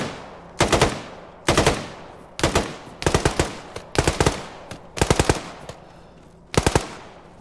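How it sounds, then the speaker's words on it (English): Short bursts of machine gun fire laying down suppression in the military shooter Arma 3, seven distinct volleys of several rounds each spaced about a second apart, loud and sharp with no talking. "Put down some suppressing fire"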